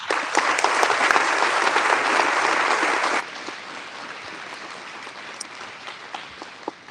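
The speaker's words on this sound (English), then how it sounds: "let's give another round of applause to Chipper Weiss, please." An audience at a county fair coronation claps loudly and evenly for about three seconds before the applause cuts off sharply, leaving a quieter room with a few scattered taps and faint murmur.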